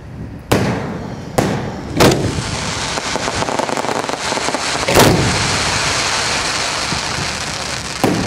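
A fireworks display at a country club in Florida fills the air with loud sharp bangs at irregular intervals over a dense, steady crackling hiss of burning effects.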